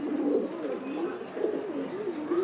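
Pigeons at a breeder's loft in Cairo coo in soft, rolling, repeated phrases, close and steady, with no talk over them.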